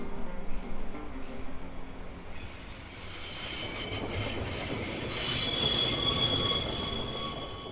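A train runs along a Tasmanian railway line, its steel wheels squealing and clattering on the rails. The sound stays loud and continuous throughout and swells toward the end as the wagons roll past close by.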